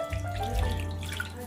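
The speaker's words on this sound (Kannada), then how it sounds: "ಇದರಲ್ಲಿ ನೀರು ಹಾಕೊತಾ ಇದ್ದೀನಿ" Water is poured steadily into rava (semolina) idli batter, a continuous close splashing stream with no talk.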